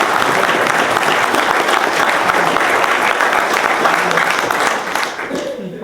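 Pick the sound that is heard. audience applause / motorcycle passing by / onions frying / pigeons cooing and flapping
audience applause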